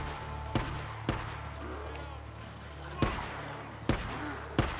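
Distant gunfire in the video game Days Gone: a few sharp, isolated cracks spaced irregularly over a low steady background hum, faint and far off.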